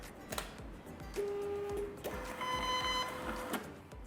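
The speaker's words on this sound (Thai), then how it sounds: "เดี๋ยวเรามาพิมพ์กันดูอีกทีนะครับ" A label printer run from BarTender software prints EAN-13 barcode labels, giving a short burst of whirring feed motor with steady electronic tones, close and alone.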